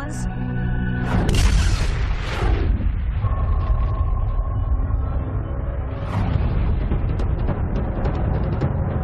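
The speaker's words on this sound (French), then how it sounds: "Vous imaginez la force de l'explosion?" A deep, rumbling boom erupts and rolls on in a sustained roar, with a second swell of rumble later; loud and close.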